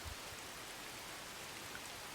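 Rain falling in the prehistoric settlement-building game Dawn of Man: a soft, steady hiss of rainfall with no voices, faint and even throughout.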